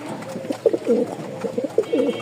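Racing pigeons coo repeatedly in low, rolling phrases, close and clear, with short pauses between bursts and no voices.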